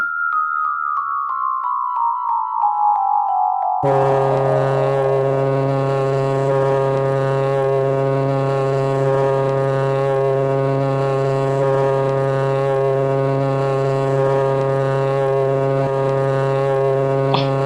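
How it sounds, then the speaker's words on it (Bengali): A shinga horn is blown: a short falling tone gives way to a loud, sustained, deep drone that holds steady for many seconds. "কিসের শব্দ? ও অনেকটা ঠিক শিঙে ফোঁকার শব্দ"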